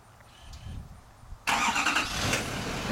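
A 2011 Chevrolet Silverado 3500 HD crew cab with a Duramax diesel starts by remote start, a quiet lead-in giving way to a sudden loud, steady engine roar that holds to the end.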